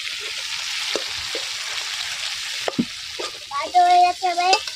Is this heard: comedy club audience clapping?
no